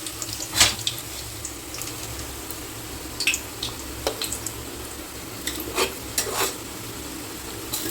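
Onions frying to golden brown on a low gas flame for pressure-cooker biryani, a soft continuous sizzle with occasional sharp clinks and stirring clatters, near and without speech.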